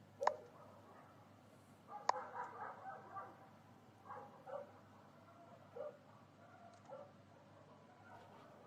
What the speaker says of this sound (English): We hear them dogs.